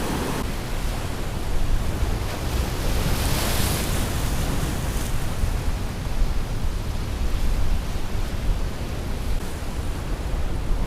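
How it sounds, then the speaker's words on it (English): Ocean waves and an incoming tide rush onto the shore in a continuous loud wash of surf, with steady roaring hiss and some wind buffeting the microphone, no voices. "You can see the waves coming in. Tide is ripping in."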